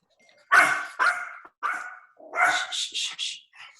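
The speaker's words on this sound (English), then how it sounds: "I hear a dog." A dog barks repeatedly into a Zoom meeting microphone, a close, loud series of about seven sharp barks in irregular bursts with brief silences between.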